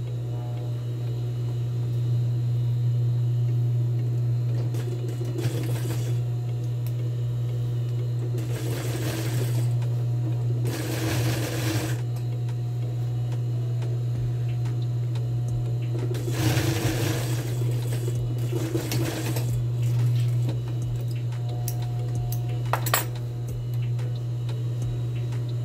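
A sewing machine stitching a skirt near an invisible zipper hums with a steady motor drone. Several bursts of rapid needle chatter rise and stop over it, close and fairly loud.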